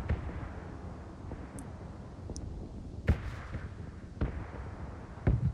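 Distant artillery shells thud and boom in a PUBG red zone bombardment, several separate impacts landing at irregular intervals over a steady low rumble, with brief high whistles before some blasts.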